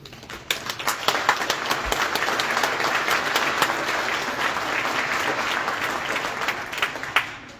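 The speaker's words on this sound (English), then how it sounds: "So give yourself a round of applause." Sustained audience applause at a grades 7–12 school band concert, dense steady clapping from a large crowd filling the hall, swelling in at the start and holding throughout with a few louder close claps.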